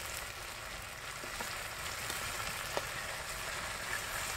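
Ginger garlic paste frying in hot oil in a pan with chilies for an egg korma curry, a steady, even sizzle and crackle throughout with a few faint spatters.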